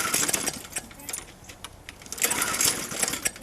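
A lawn mower engine struggles to start, giving a fast, uneven sputtering chatter that swells and fades over a few seconds, close by and fairly faint.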